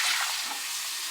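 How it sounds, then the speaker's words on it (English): Tap water running into a sink while a wash basin used for foot care is rinsed, a brief bright rushing splash, close and steady, with no voices. "I'm going to rinse the basin."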